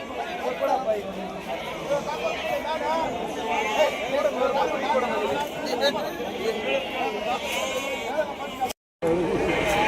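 A flock of around 80 young lambs or kids bleats over and over in a crowded pen, the calls overlapping near and far, while people talk throughout.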